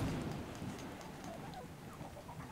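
Soft rain in the video game Ark: Survival Evolved, Valhalla map, patters steadily in the background, with faint bird cooing mixed in; quiet and diffuse, no voices.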